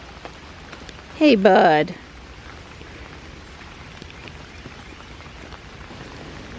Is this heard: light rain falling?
yes